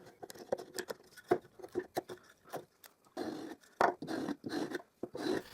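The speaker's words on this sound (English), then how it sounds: "I will use a chisel to clean that inside corner" Chisel paring and scraping at an inside corner of a plywood piece for a router table tenoning jig, a close series of short irregular scratchy strokes and rasps with brief pauses between bursts.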